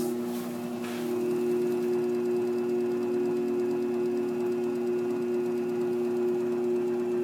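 A home-made pottery wheel's motor, belt-driven through sprockets, runs as a steady close hum with a faint buzzing whine that holds at an even pitch, with no talking over it.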